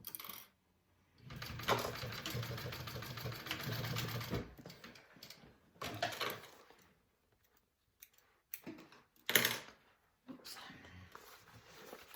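A sewing machine basts a handle onto a hobo bag in short runs of mechanical stitching, separated by pauses, with some handling noise between bursts.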